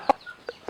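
Native chicken clucks three times in short, clipped bursts, the first loudest and close, the others a little softer, in a quiet outdoor field setting.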